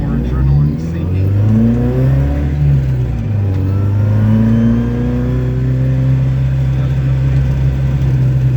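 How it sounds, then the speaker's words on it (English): A BMW four-cylinder engine revs hard and varies in pitch during a drift ride-along at a drift club, loud and continuous, with a voice talking over it. "You can definitely feel the four banger going here."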